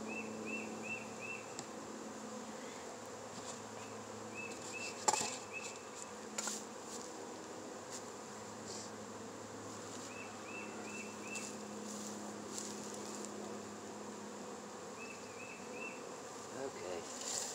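Honey bees in a hive in Fairplay, Maryland, in February, keep up a steady, dense buzz for the whole stretch. It stays close and even, with a few louder bursts from individual bees nearby.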